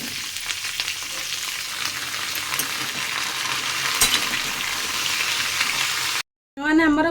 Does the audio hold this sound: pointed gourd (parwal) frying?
yes